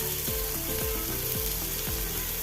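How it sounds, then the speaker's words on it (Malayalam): Finely chopped tomato sautés in a teaspoon of oil for chutney, a dense steady sizzle with faint rhythmic scraping strokes repeating over a couple of seconds. "ഒരു തക്കാളി നൈസായി അരിഞ്ഞതാണ് ഇതൊന്ന് വാട്ടിയെടുക്കണം"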